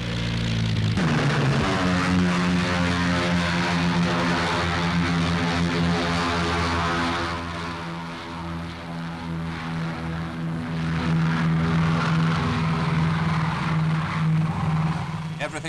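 A propeller bomber on an atomic bomb test mission starting its takeoff, a strong droning engine hum that builds, dips and swells again, with a voice talking over it.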